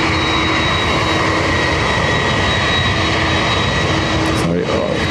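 A Ryanair airliner arriving from Stansted at Dublin Airport roars loudly and steadily with broadband jet-engine noise, holding close and constant with a brief dip near the end.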